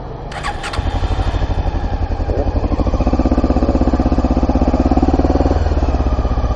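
Motorcycle engine on a riding-school course catches after a brief stutter and settles into a loud, steady, close throbbing as the rider opens the throttle, with the revs held fairly even throughout.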